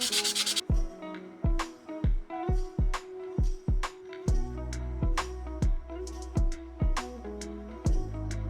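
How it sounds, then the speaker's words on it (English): A sanding stick rubs rhythmically over the plastic hull of a 1/16 scale M4A1 late-build Sherman model tank, making about fifteen short, close scratchy strokes in a steady back-and-forth pattern with brief pauses between them. "Just going to go over it gently with a bit of a sanding"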